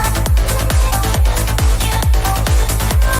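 Bass-heavy electronic music plays with a punchy kick drum landing on every beat at a steady tempo, no voices.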